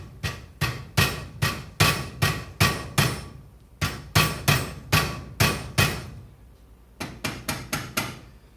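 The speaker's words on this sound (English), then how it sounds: "I'm going to tap this a few times." Sharp metallic taps on an Ohlins TTX shock absorber during an oil service, a quick run of regular close knocks, a brief pause, then more groups of taps, each ringing out briefly, with no talking.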